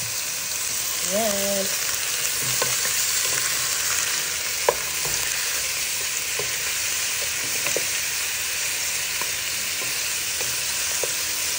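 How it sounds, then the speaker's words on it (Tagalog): Pork frying with onions and garlic in canola oil: a steady, dense sizzle running throughout with occasional small pops and clinks, close and even, a brief voice heard once near the start. "I'm gonna fry this first."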